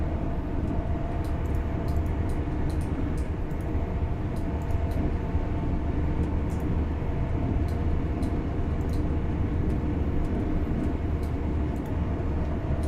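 A train in a train simulator video game rumbles steadily along the tracks, a continuous low drone with faint rhythmic clicks and no voices.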